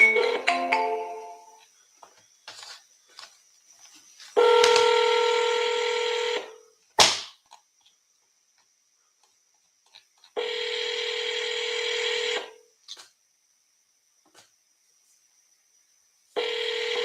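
Telephone tones on outbound seller calls: steady electronic ringback tones in long separated bursts, each about two seconds, with brief beeps and clicks between them and near-silence in the gaps.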